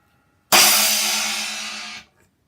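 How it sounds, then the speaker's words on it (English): A Wuhan 12-inch B20 bronze splash cymbal struck once, giving a bright, trashy crash that rings loudly and decays over about a second and a half before being choked off. "Wuhan 12-inch splash, which sounds like this."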